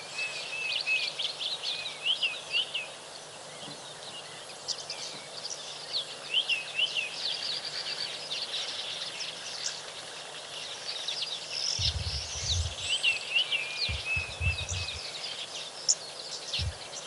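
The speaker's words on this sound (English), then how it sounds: "That little call is the call of the oxpeckers." Oxpeckers give small, repeated chirping calls at a savanna watering hole, mixed with other bird song and insect buzz, and a few low rustles and thumps come in near the end.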